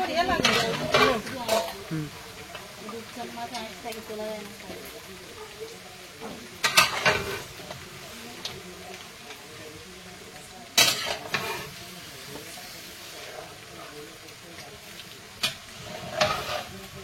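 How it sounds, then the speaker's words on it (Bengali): Goat meat being stirred and mixed in a cooking pan, with a utensil scraping and clattering against the metal in intermittent bursts over a low background sizzle. "এইবারে শুধু নেড়ে চেড়ে মেশানোর পালা, আর মিশিয়ে কষানোর পালা।"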